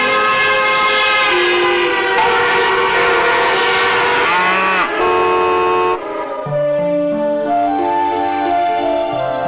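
Loud, sustained car horns blare and overlap in long chords, shifting pitch as several vehicles honk repeatedly in traffic, with no voices.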